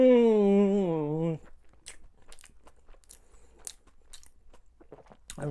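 Kimchi dumplings are bitten and chewed close up, giving soft crunchy and wet chewing clicks. A brief drawn-out vocal exclamation comes first, then the chewing continues quietly on its own.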